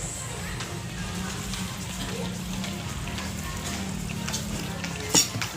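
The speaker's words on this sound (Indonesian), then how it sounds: "daun pandan yang habis kita blender tadi kita saring" Green juice from blended pandan leaves is strained in a kitchen, giving a steady, close hiss of trickling liquid with a short clatter near the end.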